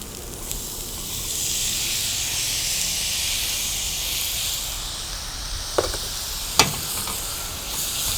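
Mutton masala with chopped tomatoes sautés in a pan, giving a steady, close hiss of sizzling oil, with a couple of brief scrapes from stirring near the end.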